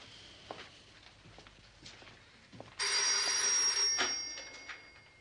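A telephone ringing indoors in a French crime drama, a single bright electric ring burst lasting about a second, clear and moderately loud against a quiet room.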